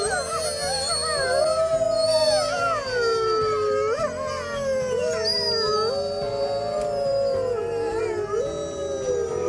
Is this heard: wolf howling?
yes